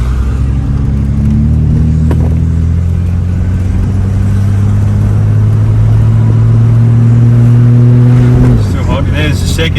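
A Ford XD Falcon with a faulty BW35 automatic transmission pulls away under load with a steady, loud engine drone. The rising engine note drops sharply near the end as the gearbox clunks into second.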